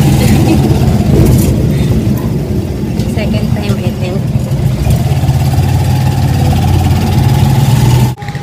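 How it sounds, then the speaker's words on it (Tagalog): A motorized tricycle's engine runs with a continuous low rumble and rattle, heard from on board at close range, while a person briefly speaks over it. "Tricycle"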